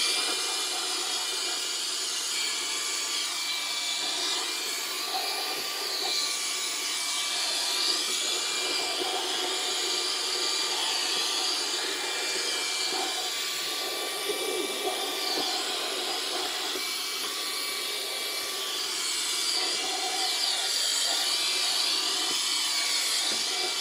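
A steady high-pitched whine of a small turbo fan used as a vacuum, running continuously, loud and close, with slight shifts in pitch as airflow changes.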